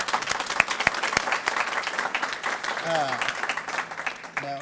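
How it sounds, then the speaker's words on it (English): Applause from the audience in the stands at a university hooding ceremony, steady clapping from a large crowd filling the hall, with a voice briefly audible partway through. "can I give a round of applause from our graduates to everyone in the stands?"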